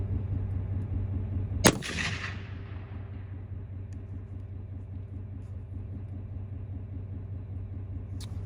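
One sharp, loud rifle shot cracks out while zeroing a scope at a 100-yard range, its report rolling away over a steady low engine-like rumble that continues underneath.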